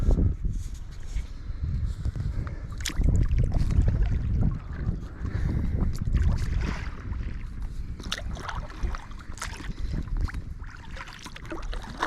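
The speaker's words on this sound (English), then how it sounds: "It's out in the kayak for a little paddle around the bay." Inflatable single-person kayak paddled across a harbour bay by a small village, steady water splashes and paddle strokes with wind rumble on the microphone, fairly close and continuous, no talking.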